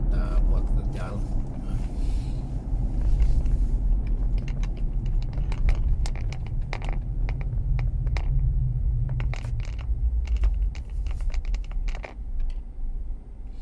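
Car cruising through a tree-lined housing estate in Miri, with steady low engine and road rumble throughout and sharp clicking or tapping sounds scattered over it.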